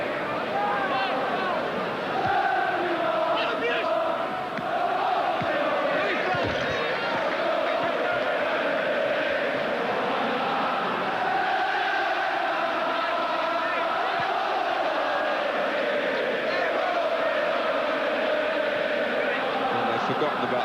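A big football crowd at a 1994/95 Everton vs Newcastle United match sends up a dense, steady roar throughout, loud and unbroken, with a commentator's voice running over it.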